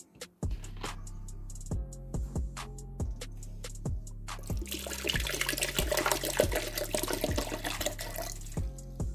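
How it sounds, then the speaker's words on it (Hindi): Water being poured from a container into a cooking pot, a steady splashing stream that grows fuller and louder partway through, over a low rhythmic background hum. "ये हम पानी ऐड करेंगे।"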